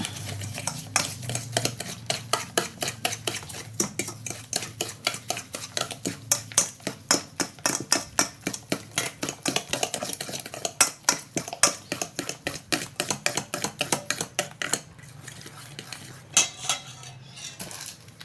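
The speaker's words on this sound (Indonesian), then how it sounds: "Pertama-tama kita akan mengocok telurnya dengan gulanya" Eggs and sugar are beaten in a bowl, a fast, regular clatter of a whisk striking the sides that runs steadily for many seconds, close and crisp, pausing briefly near the end before resuming.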